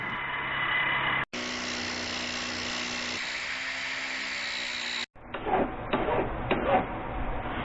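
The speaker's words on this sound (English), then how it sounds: "Now we need to cut the sections to be welded together." A power saw cuts aluminum channel sections for a kayak trolling motor mount, giving a loud sustained whine that stops abruptly, then rougher grinding bursts as the cut continues.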